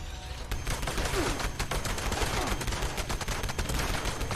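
Fallout 76 gunfire pours out as a dense, continuous stream of rapid shots, loud and close, with no pause for the whole stretch.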